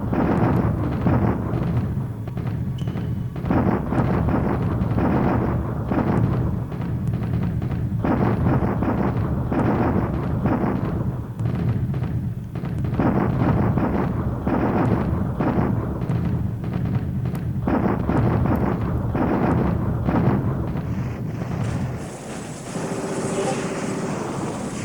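Bombardment explosions in the War in the Pacific: Admiral's Edition strategy game, a continuous loud rumbling barrage of booms and blasts rolling on without pause, with brief dips between heavier volleys.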